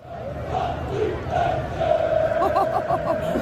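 Away supporters of Paris Saint-Germain sing loudly in Barcelona's Camp Nou stadium, a sustained massed chant that swells and grows more emphatic, rhythmic pulses near the end, large and reverberant.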